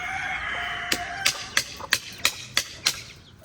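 A chicken calls as it is shut into its coop. A few harmonic calls come first, then a run of about seven sharp, evenly spaced bursts, moderately close, with no talking.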